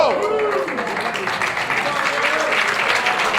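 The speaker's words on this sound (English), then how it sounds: "The crowd showing their approval for a fucking hell of a battle." A crowd applauds and cheers at a wrestling match in Reseda, California, a loud, steady roar of clapping and shouting that fills the whole stretch, with voices mixed in.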